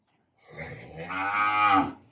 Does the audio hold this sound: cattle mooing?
yes